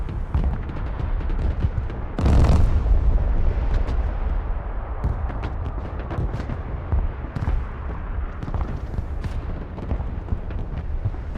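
An MLRS missile artillery barrage in a modern-warfare RTS game: a heavy launch blast, then a long rumbling stretch of scattered booms and crackling impacts, loud and continuous.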